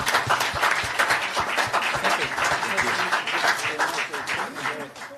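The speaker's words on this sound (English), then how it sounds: "Round of applause." Audience at an international forum on Indo-Pacific alliances applauds a panel, a dense, even round of clapping filling the room, slightly fading toward the end with voices underneath.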